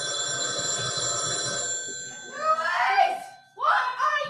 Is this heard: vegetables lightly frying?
no